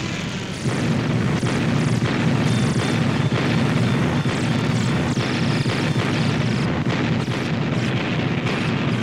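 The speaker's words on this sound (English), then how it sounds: "Henry, open fire!" Gunfire and explosions in a 1977 Godzilla audio drama battle scene, a dense, loud, continuous roar of booming blasts and rumbling fire that sustains throughout without a break and has no talking.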